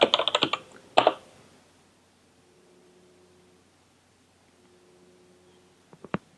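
Typing a command on a computer keyboard at a Windows command line, a quick run of close key clicks, then a pause with faint hum and a few final keystrokes at the end.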